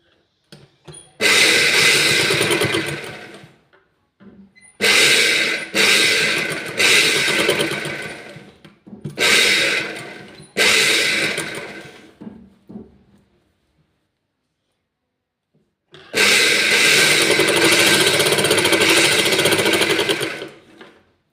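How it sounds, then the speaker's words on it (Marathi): A sewing machine stitches a seam on a blouse in loud, close bursts of rapid mechanical whirring, several runs of a few seconds each separated by silent pauses, ending with one longer stretch. "आता आपण इथे एक शिलाई टाकून घेऊ"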